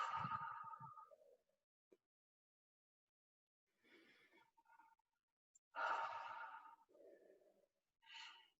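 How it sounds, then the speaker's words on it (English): Deep audible breaths, slow inhales and long exhales, come in separate bursts with silent pauses between them, faint and close. "Let's take a couple of really deep breaths."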